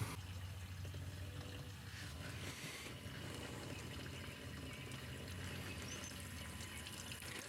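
Water rushes steadily into a water heater tank with a constant hissing, gurgling flow, close by and unchanging.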